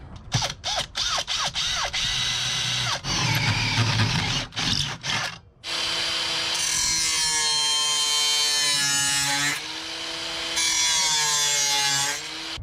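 A power tool cuts through a metal hood latch bracket for a Honda CRX: first a series of sharp, irregular bursts, then a steady, loud, close whine with a shifting pitch that keeps running to the end.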